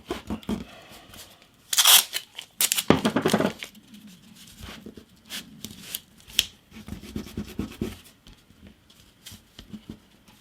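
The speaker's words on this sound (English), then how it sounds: "let's just tape it down" Tape is torn off a roll to hold down a part of a handmade classical guitar, with two loud, close ripping bursts followed by quieter crinkles and light taps.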